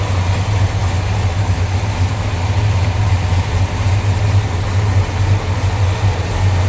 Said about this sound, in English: Original 454 engine in this car.